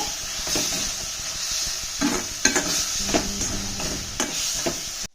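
Garam masala and turmeric fry in a pan for fenugreek kadubu, a steady close sizzle with a spoon scraping and stirring in several sharp strokes, no voices.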